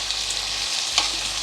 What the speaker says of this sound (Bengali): একটু ভালো করে আমি এটাকে একটু নাড়ছি